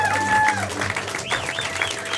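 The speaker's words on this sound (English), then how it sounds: "Give them another round of applause, everyone." Audience applause at a live comedy show, a steady wash of clapping hands with cheers and whistles riding over it, close and fairly loud throughout.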